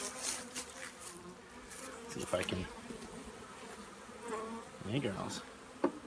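Honeybees buzz around an open hive during a varroa mite check, a steady close swarm drone with individual bees flying past the mic and someone speaking briefly.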